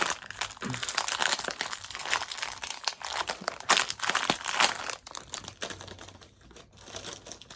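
A bag of crunchy Flamin' Hot Cheetos is torn open and handled, giving loud, close crinkling and rustling of the foil-lined packet in irregular bursts, with no speech.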